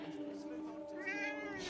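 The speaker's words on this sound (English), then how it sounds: "Cat! Pet the cat!" A cat meows in the Forspoken video game, with a clear rising tonal call near the end over a steady game backdrop and a faint voice underneath.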